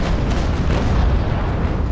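Cannons on a sailing warship fire in the naval video game Naval Action, a loud, heavy rumble of overlapping booms filling the whole moment, with no talk.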